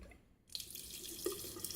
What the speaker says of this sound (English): I am turning the faucet.